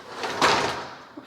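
A door in an empty apartment hallway slides or swings with a soft whoosh and a muffled thud, close and fairly quiet, followed by a faint small knock.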